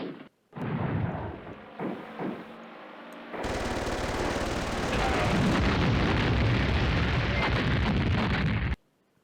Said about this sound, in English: Yeah, let's throw an airstrike there.